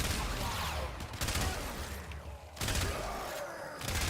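Rapid gunfire in the video game Warframe while shooting enemies on the plains, dense bursts of crackling shots broken by short pauses, loud and close with no talk over it.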